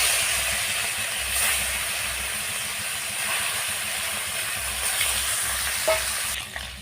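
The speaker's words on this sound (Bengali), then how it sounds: "তেলটা গরম হয়ে গেছে আবার মাছগুলো ভেজে নেব" Fish pieces fry in hot mustard oil in a kadai, making a continuous, close hiss and crackle with a few brighter spits and a short scrape near the end, and no voices.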